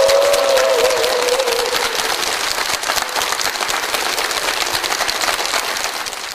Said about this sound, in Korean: 오늘 좋은 말씀 해주신 목사님께 감사의 박수 보내드릴까요?